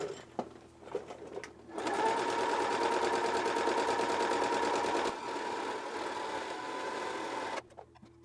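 A serger runs a 4-thread overedge seam, starting after a few faint clicks and buzzing in a loud, steady, rapid stitching drone for about six seconds, with a slight change in pitch midway before stopping abruptly.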